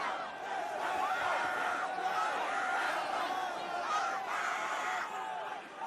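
A packed concert crowd at a show makes a distant, chaotic mass of screams, whoops and shouting voices that keeps rising and falling throughout.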